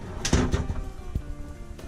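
A few wooden drawers slide and knock shut nearby in a cruise ship inside cabin, with soft thuds and rattles, no voices.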